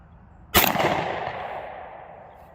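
A single loud 9mm pistol shot from a single-shot handgun fired at a target outdoors, a sharp crack followed by a long fading echo.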